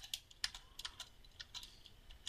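Quiet, close keystrokes on a computer keyboard tap out in an irregular, steady rhythm of light clicks with no voices.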